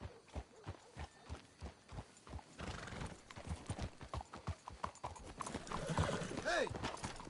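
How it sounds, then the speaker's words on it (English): Horses in the Red Dead Redemption 2 video game walk with steady, rhythmic hoof clip-clops, and one whinnies near the end. Game voices talk over the hooves. "Let's hitch the horses up ahead."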